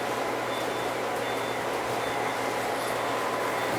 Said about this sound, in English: This freight train has arrived at the yard to be sorted.